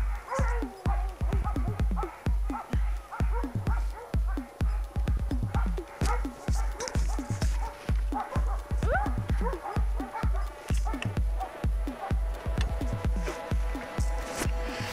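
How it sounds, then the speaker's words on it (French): A pack of sled dogs barks and yips nonstop in quick, rhythmic bursts, close and loud, with excited whimpers mixed between the barks. "Allez les chiens, on est parti"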